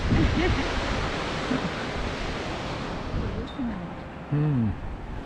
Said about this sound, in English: This is the second waterfall, about 200 metres further down from the first one.